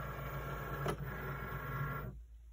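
A Cricut die-cut machine draws in its cutting mat with a steady mechanical whir and hum and a brief click partway through, stopping abruptly near the end, close by with no talking.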